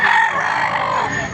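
A rooster crows once at a chicken market in Baliuag, Philippines, loud and close, a long drawn-out call that trails off near the end.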